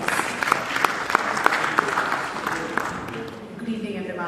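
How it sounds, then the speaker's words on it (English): Audience applause fills a conference session, a steady wash of clapping from a seated crowd that holds for several seconds and slowly thins toward the end. "Can we once again give a great round of applause, please?"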